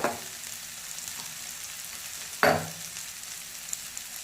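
Turmeric and cumin powder fry in a pan over a low gas flame, a steady soft sizzle with a sharp clink or stir near the start and a louder scrape of utensil against pan midway.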